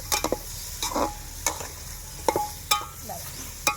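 Mutton with salt being stirred in a pan, home village-style cooking: a steady sizzle broken by a series of short scraping stirs, close and fairly loud, with no talk.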